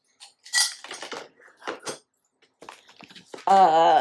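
A soup tureen and its serving spoon are handled, giving light clinks and scrapes of the spoon against the dish in short bursts, with a voice joining near the end.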